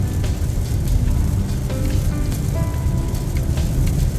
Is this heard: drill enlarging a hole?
no